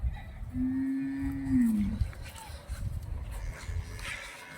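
A heavy-sized cow gives one long, drawn-out moo that bends downward at the end, set against outdoor background noise with faint voices.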